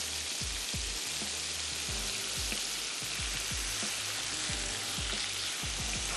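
Prawns frying lightly in a pan with salt, a constant close sizzle with scattered soft pops and occasional stirring knocks, no speech.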